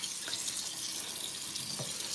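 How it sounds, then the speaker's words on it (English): Tap water running steadily into a cooking pot in a home kitchen for vegetable stew, a continuous close hissing splash with no talking. "I'm going to be adding water."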